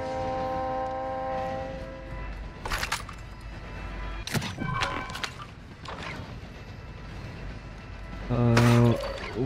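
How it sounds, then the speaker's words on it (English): Train in the Call of Duty DMZ video game passing by, with a loud drawn-out horn blast near the end, rumbling rail noise and sharp impact sounds, while people talk throughout. "One player tried to get on the train."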